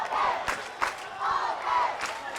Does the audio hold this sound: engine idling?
no